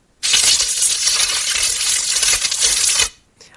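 A paper crumple, pitch-shifted up two octaves into a bright, hissy crackle for a League of Legends Nami spell effect, runs as one continuous dense rustle for about three seconds, then cuts off.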